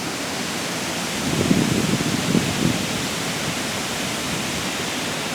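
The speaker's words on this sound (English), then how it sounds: "There's one waterfall right over there, one right over there." A waterfall roars continuously in the distance outdoors, a broad steady rush of water with no break, holding at an even level throughout.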